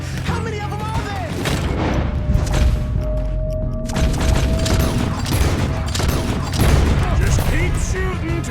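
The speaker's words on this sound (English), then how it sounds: "Just keep shooting till nothing moves." Dense gunfire in a Red Dead Redemption 2 shootout at a manor, with overlapping rifle and pistol shots and booming impacts, continuous and loud, alongside game character dialogue.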